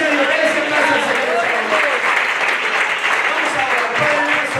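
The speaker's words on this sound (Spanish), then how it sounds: "dale ese aplauso al Señor" A church congregation applauds the Lord in a Spanish-language service, loud sustained clapping from a full room filling the whole stretch without letup.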